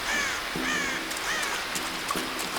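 Crows caw repeatedly in the video game Tomb Raider 2013, three rising calls at steady intervals over a dense bed of ambient game noise and soft low tones.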